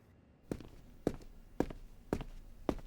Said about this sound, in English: Is that the footsteps of this plane's pilot I hear?